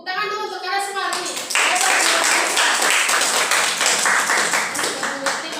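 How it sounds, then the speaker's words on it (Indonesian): Students in a classroom break into a burst of clapping right after a voice or a sung tone opens. The clapping is dense and close and stays loud throughout, with some voices mixed in. "Tepuk tangan dulu untuk kalian semua ini"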